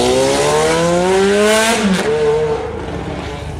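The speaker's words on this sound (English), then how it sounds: "An insanely loud aftermarket exhaust pull." A Ferrari F430 Scuderia with a loud aftermarket exhaust rips through a hard full-throttle pull, the engine note climbing steeply before a sharp shift and a fading, rasping tail, loud and close with no talking.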